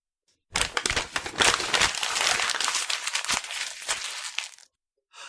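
A sheet of paper is scrunched up into a ball by hand, giving several seconds of close, loud crackling and crinkling with sharp snaps, stopping abruptly before a brief quiet.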